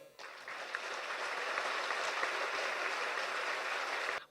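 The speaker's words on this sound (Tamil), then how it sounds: "அரங்கம் நிறைந்த ஒரு கரகோஷம்." Dense, sustained applause from an audience at a Tamil dance-drama performance about Manikkavasagar, filling a hall with a steady roar of clapping that starts abruptly and holds evenly for several seconds.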